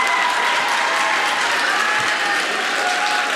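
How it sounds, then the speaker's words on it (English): Steady, dense applause from an audience at a speech night, honoring the instructors, with a faint crowd murmur mixed in; the clapping holds loud and even throughout. "Let's give them a round of applause, too."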